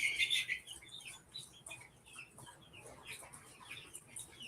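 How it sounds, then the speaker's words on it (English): Chickens cluck and chirp in a backyard coop holding young Californian birds, a run of light, fairly close calls with some wing flutters, no talking. "You have a chicken."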